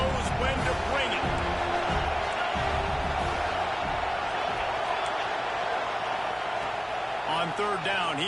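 A football stadium crowd roars steadily and loudly throughout, with a commentator talking over the din.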